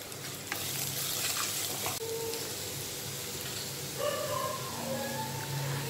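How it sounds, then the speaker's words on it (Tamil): Garlic sautés in a pan with salt as the base of a mixed vegetable gravy, giving a continuous close sizzle with occasional stirring scrapes. "பூண்டோட பச்சை வாசம் போகிற வரைக்கும் வதக்கிக்கோங்க."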